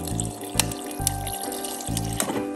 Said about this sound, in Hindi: तो ये देखिए पानी आ रहा है बाहर।